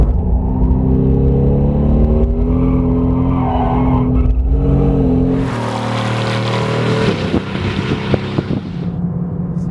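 Mercedes-AMG GT R with 700 Nm of torque drifting, its engine revving loudly with wavering pitch, then a burst of tyre hiss and skid noise as the car slides, engine continuing underneath.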